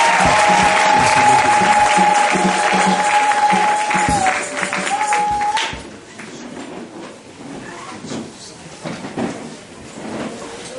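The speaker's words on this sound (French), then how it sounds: "Acclamons le Seigneur ce soir." A church congregation applauding and cheering in acclamation, a loud dense wash of clapping and voices that gradually thins into scattered claps and crowd murmur.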